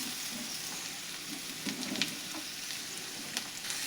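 Chopped tomatoes frying in hot oil for a chutney, a steady soft sizzle with a few brief crackles and spatula scrapes, no voices.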